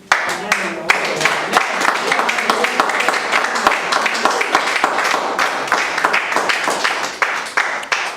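A church congregation breaks into loud, sustained applause as an offering of praise to God, many hands clapping densely and steadily for several seconds before tapering off, with some voices mixed in.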